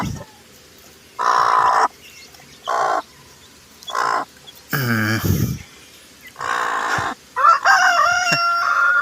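Native chickens with their chicks: a rooster crows and hens cluck in a series of loud, close bursts spread across the clip, separated by short quiet gaps, with no talking.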